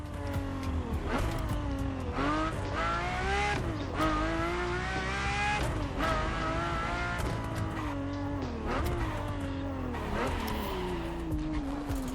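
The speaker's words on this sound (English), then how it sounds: "LaFerrari is the first Ferrari we have with an hybrid engine." Ferrari LaFerrari hybrid supercar driven in the racing game The Crew Motorfest, its engine loud and continuous, revving up and down through repeated gear shifts with rising and falling pitch.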